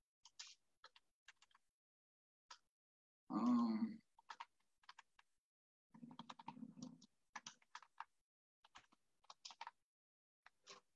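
Typing on a computer keyboard: scattered bursts of light key clicks spread across the clip, close and fairly quiet, with one brief louder thump partway through and no talk.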